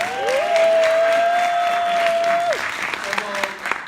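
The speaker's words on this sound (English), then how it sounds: "so we could give them a big round of applause" Audience applause for a speaker's parents at a financial literacy talk, a steady wash of clapping with a long sustained tone and some voices over it, thinning out toward the end.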